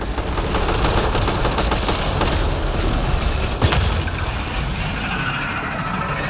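Gunfire during a firefight in the sci-fi shooter Mass Effect Andromeda on the frozen planet Voeld, a dense continuous rattle of automatic weapons and blasts at steady loud level with one sharper shot midway, no talk.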